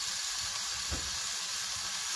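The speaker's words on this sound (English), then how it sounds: "Now we're just going to put the steak in the pan. Listen to that sizzle." A steak sizzles in a pan heated to full heat, a steady, bright hiss and crackle of frying with a brief low thump near the start, continuous and close.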